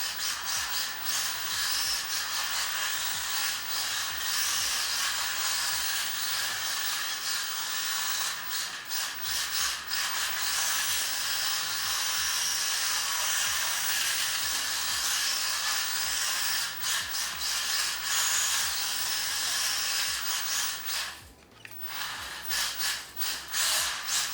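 A small 1/43 scale RC car runs on a hardwood floor, giving a continuous whirring, rubbing motor noise with brief rises and a short drop near the end, and no talk.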